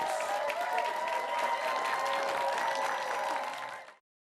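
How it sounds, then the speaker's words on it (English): Loud, dense applause from a crowd claps steadily, then cuts off abruptly into silence. "Let's have a round of applause for our two schools."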